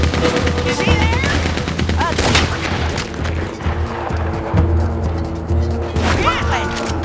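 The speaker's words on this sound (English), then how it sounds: "Gatling. That's the gun you fight an army with, not a goddamn widow." Rapid Gatling gun fire in the Red Dead Redemption 2 video game, dense bursts of shots and booms pounding throughout, with shouted voices and music layered over the battle.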